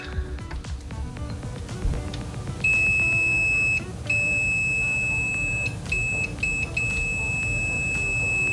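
An ANENG SZ305 multimeter emits its continuity test beep, a thin steady high tone sounding in several bursts of varying length with brief gaps, over a low background rumble.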